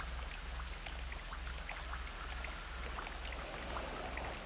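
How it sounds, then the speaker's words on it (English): Soft, steady rain patters with scattered drop ticks over a low continuous hum, faint and even throughout, with nobody speaking. "I am hearing rain."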